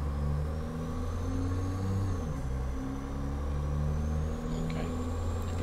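A custom pickup truck engine idles and rumbles steadily in American Truck Simulator, a low continuous drone with slight rises in revs as it is put in gear.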